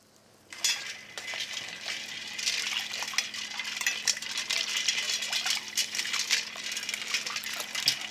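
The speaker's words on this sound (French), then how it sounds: "hop, on va les plonger dans notre bain d'eau glacée" Blanched vegetables tipped into an ice water bath, sloshing and splashing in a steady busy wash with clinks of ice and utensils, close and fairly loud throughout.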